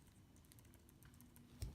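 Keys pressed on an Apple keyboard, a faint, close run of light clicks tapping in an uneven rhythm, ending with a slightly heavier thump.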